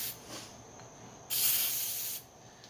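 Aerosol chain lube hisses from a spray can onto a blade being sharpened: one short, loud burst of spray, about a second long, over faint background noise.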